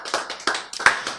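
A few sharp hand claps ring out from listeners at a health lecture in a hall, a short irregular burst of about five distinct claps close by with no talking.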